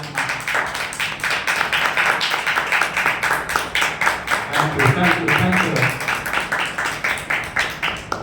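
A church congregation claps together in praise of the Lord during a Hindi sermon, a steady rhythmic run of hand claps that fills the hall, with a brief spoken voice near the end.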